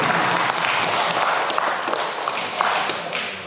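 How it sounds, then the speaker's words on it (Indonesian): A large audience claps loudly and steadily at a creative-economy government event in Samarinda, a dense, unbroken wash of applause that fades slightly at the end. "Boleh tepuk tangan"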